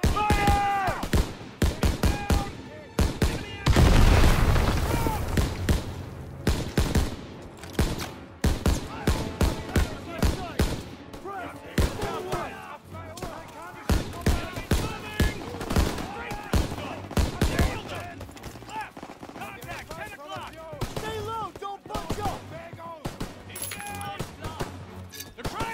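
Dense battle gunfire from the WWII-era video game Call of Duty WWII: rapid machine-gun bursts and single rifle shots crackling without pause, with a heavy explosive boom early on, loud and continuous while shouted commands cut in.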